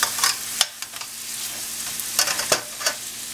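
Pork tenderloin searing in a hot skillet with butter, a steady crackling sizzle punctuated by sharp pops and spatters, close and alone without talk.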